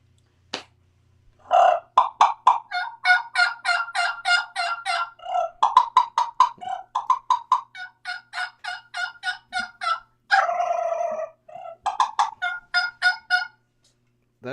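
A man imitates wild turkey gobbles and yelps with his mouth alone, no call device, in a long run of rapid, loud, rhythmic bursts close up, with brief pauses between phrases.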